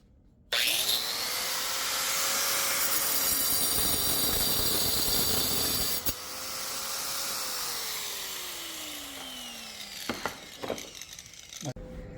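An angle grinder fitted with a diamond multi-purpose saw blade starts up with a high whine and cuts steadily through material in two passes, the motor winding down between and after, with a voice speaking briefly near the end.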